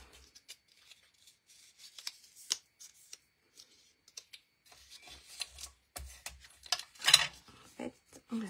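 Dry paper rustles, creases and small crisp taps as paper is folded into a box with a frame, scattered and irregular, close by and fairly quiet, with no voices.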